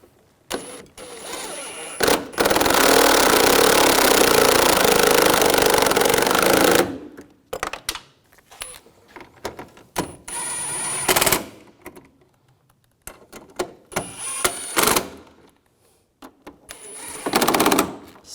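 A power tool or ratchet tightening AC condenser bolts on a 2011-2018 Volkswagen Jetta, a loud sustained whirring burst followed by several shorter mechanical bursts and clicks separated by quiet gaps.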